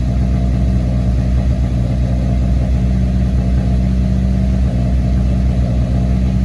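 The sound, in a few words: Audi A5 engine running, kept below 2,000 RPM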